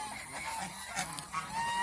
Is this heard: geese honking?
yes